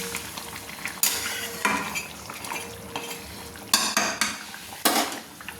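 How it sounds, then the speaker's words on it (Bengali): Mutton being stirred with water in an iron wok, a series of sharp metal spoon scrapes and clanks against the pan, roughly six strokes over a low simmering bubble, close and unaccompanied by speech. "4 বাটি জল দিয়েছি মটন কষানোর জন্য, দিয়ে একটু নেড়ে নিচ্ছি।"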